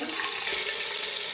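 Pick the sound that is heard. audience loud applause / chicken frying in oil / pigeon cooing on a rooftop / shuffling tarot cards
chicken frying in oil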